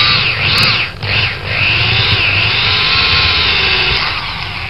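A power drill with a small bit pre-drills a pilot hole, a loud, close, continuous grinding whine that briefly dips near the start and then runs on steadily without talk.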